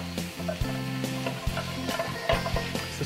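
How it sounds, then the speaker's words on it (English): Food sizzling and being stirred in a very hot pan over high heat, with steady frying hiss broken by scraping and clattering as the pieces are kept moving, close and fairly loud with no talking. "I'm cooking these in a nice hot pan because I want to retain that heat in there."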